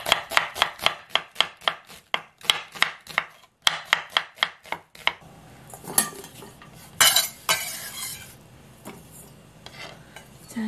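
An onion being chopped with a knife on a board: a quick run of sharp, evenly spaced knocks close by, then a pause and scattered scraping and clattering as pieces are moved about.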